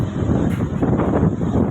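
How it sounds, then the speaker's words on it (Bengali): Strong wind at Kuakata sea beach, Bangladesh, buffets the microphone in a constant loud rush, with a low roar underneath. "প্রচুর বাতাস"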